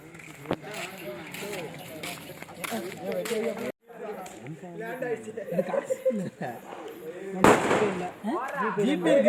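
People talk excitedly throughout while firecrackers burst with sharp, loud bangs, one early and a bigger crack later on.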